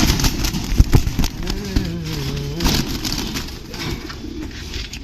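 Soft, low cooing from a China bloodline homer pigeon rolls in a couple of drawn-out phrases over a steady background hum, with a few sharp knocks near the start.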